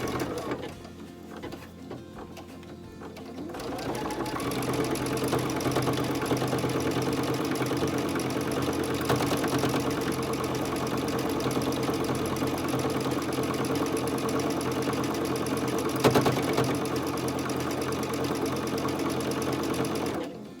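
A sewing machine runs steadily and fairly fast for a long stretch while stitching a wagon wheel quilt block, its motor hum and needle clatter even and close, with no talking.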